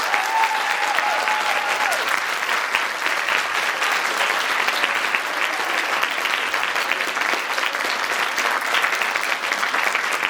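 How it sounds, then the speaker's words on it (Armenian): Dense, steady audience applause fills the hall at a school performance event staged by ninth-grade students, sustained and loud throughout with no pauses. "Ես ուզում եմ այն հիմա նորից շատ բարձր ծափահարել։"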